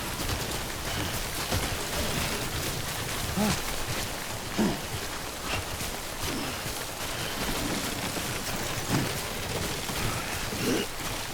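Steady, dense rain pours in the video game Death Stranding, a continuous hiss of drops on surfaces with occasional heavier spatters throughout.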